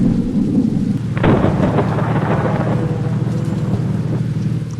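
Thunder and steady rain in a truck driving simulator game, a loud crack of thunder rolling out over continuous heavy rainfall that holds throughout.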